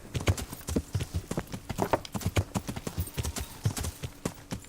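Horse hooves clip-clop in a steady quick rhythm in the video game Kingdom Come: Deliverance, the beats close and continuous throughout without talk.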